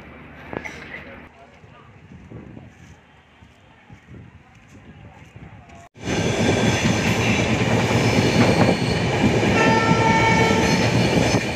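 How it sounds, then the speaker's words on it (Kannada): A weekly express train on the Mysuru to Bengaluru line: a softer rumble with faint voices at first, then a sudden, loud, steady roar of the running train that fills the second half. "ನಮ್ಮದು ನಾರ್ಮಲ್ ಟ್ರೈನ್, ಮೇಲೆ ಮೆಟ್ರೋ ಟ್ರೈನ್."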